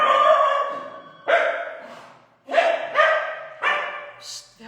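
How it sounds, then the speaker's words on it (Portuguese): A pet dog barks close by in a handful of sharp, separate barks spaced across a few seconds, ending with a higher yip, in a quiet indoor room. "só um minuto que eu vou liberar meu cachorro"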